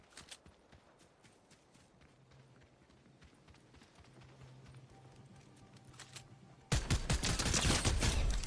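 Gunfire in a shooter video game: scattered distant shots crack over a quiet background, then a sudden loud, dense volley of rapid shots erupts near the end.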